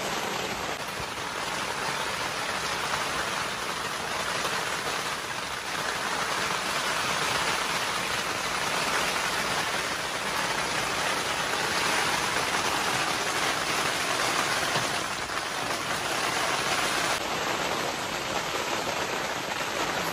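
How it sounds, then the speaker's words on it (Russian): Steady, dense rain hisses evenly throughout, a broad wash of patter close by with no voices and little change in level. "Кайфуйте вместе с нами, шум дождя."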